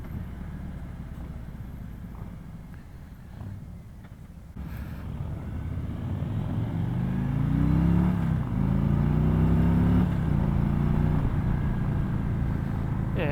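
A 2018 Harley-Davidson Road King motorcycle accelerates on a road, engine note rising in pitch through two or three gear pulls over steady wind rumble, growing louder toward the middle and holding strong to the end.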